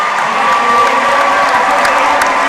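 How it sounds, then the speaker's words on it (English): A gym crowd at a high school girls basketball senior night claps and cheers for the seniors, a loud continuous wash of applause with shouts and whoops mixed in. "Please give this group of seniors one last round of applause."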